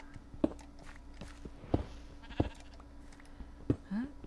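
Sheep in a video game bleat in short, clear calls, with soft footsteps and sharp clicks recurring at intervals and a rising tone at the end.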